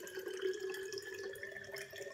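Hydrogenated water poured into a glass bottle: a faint, continuous trickle with a ringing hollow tone that fills the bottle's space, steady and close for about two seconds.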